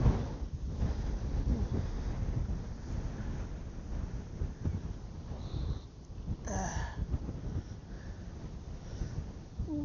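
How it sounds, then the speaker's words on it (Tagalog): Strong wind on the mountain top of Mt. Gulugod Baboy buffets the microphone in a continuous loud rumble, gusting unevenly throughout with a brief faint tone near the end. "sobrang lakas ng hangin"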